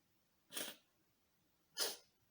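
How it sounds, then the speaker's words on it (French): Two sharp sneezes, about a second apart, each a brief breathy burst in an otherwise quiet room. "Je crois que je vais éternuer."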